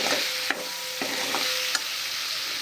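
Finely chopped onion cooks in a pan for a green turmeric curry, giving a continuous close sizzling hiss broken by a few soft stirring knocks.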